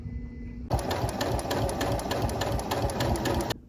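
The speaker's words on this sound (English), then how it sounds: "And now I'll sew the lining the same way that I sewed the shell." A sewing machine stitching the lining of a winter cape runs in a steady rapid whir for about three seconds, starting and stopping abruptly, loud and close with no voices.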